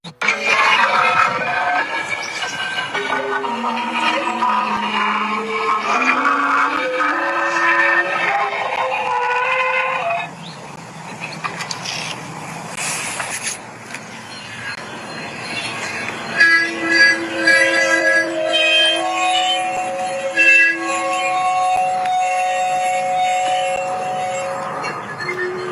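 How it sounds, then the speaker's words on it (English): Cut and tuned Sardinia soundstones in Italy, struck or rubbed so they resonate, giving sustained ringing tones and sliding pitches that shift and overlap, with a rougher scraping passage midway and clear bell-like partials near the end. "These stones have been cut and tuned to resonate certain frequencies."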